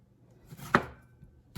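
A knife chops a Roma tomato on a cutting board in a few quiet, separate strikes, one crisp cut louder than the rest.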